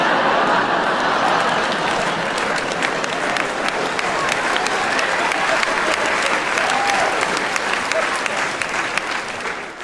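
A stand-up comedy audience applauds in a dense, steady wash of clapping that holds loud for about ten seconds before easing slightly at the end, with some faint cheering mixed in.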